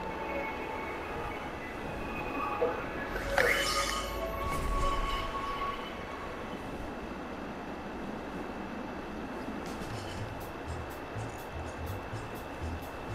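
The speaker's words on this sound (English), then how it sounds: "Oh, crud, the train's coming!" A train approaches in the video game Gravity Rush, a steady low rumble with a brief rising screech and clatter early on, fairly faint and continuous throughout.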